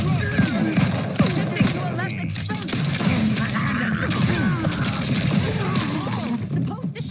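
Rapid bursts of gunfire during combat in The Outer Worlds 2, dense repeated shots layered over game effects and a voice speaking, loud and steady throughout.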